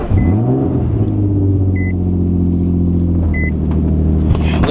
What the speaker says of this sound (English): let's get that cold start going on